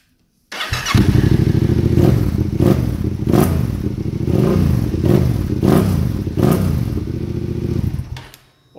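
A Yamaha Tenere 700 motorcycle fitted with an Akrapovic exhaust fires up and is revved repeatedly, with about six sharp throttle blips rising over a loud, close, rumbling idle before cutting off abruptly.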